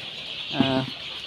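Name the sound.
layer chickens clucking in a poultry room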